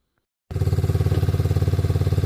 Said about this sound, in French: du premier coup il a démarré le quad